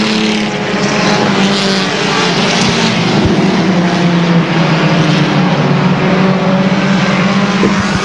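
Race cars roar around a track at an MSM event, loud and continuous through the whole stretch, with engine tones shifting as cars bunch together and pass.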